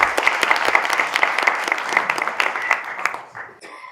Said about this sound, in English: could everyone just give a round of applause for our panel?